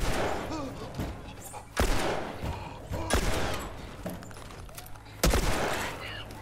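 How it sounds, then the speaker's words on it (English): Gunfire in The Last of Us, several loud separate shots spaced a second or so apart, each a sharp crack with a brief tail, with a voice talking between them. "I'm literally shooting the clicker in the head."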